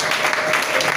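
A church congregation claps and cheers in loud, dense applause through a brief moment of worship.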